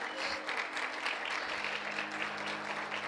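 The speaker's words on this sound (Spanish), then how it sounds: "si quiere darle un aplauso fuerte" A church congregation claps during a sermon on the feast of firstfruits, steady moderate applause from many hands with a faint background hum, continuing without pause.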